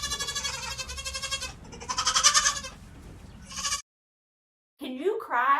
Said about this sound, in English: Can you cry like a baby goat?